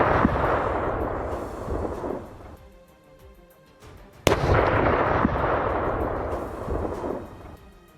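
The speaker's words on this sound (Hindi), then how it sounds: "तेज धमाके के साथ पूरा इलाका थर्रा गया।" Two heavy blasts from an Israeli military strike near a crossroads in the Pironji area, each a loud broadband boom with a sharp onset and a long rumbling decay, the second crashing in suddenly after a quieter lull.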